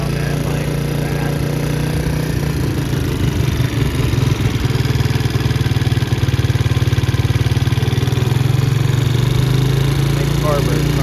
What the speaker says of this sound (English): I think the carburetor's trying to clear out. Wanna let it sit there and run, work that valve in.